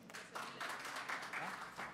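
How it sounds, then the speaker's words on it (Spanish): Applause at a mining technology and research conference, PERUMIN 32, for a speaker from Volcán Compañía Minera; faint, distant clapping that swells in waves, with some voice mixed in. "Vamos a darle un fuerte aplauso,"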